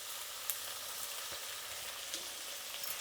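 Onions, green chillies and curry leaves fry in a hot pan with a steady, close sizzle and a few small crackles, no voices.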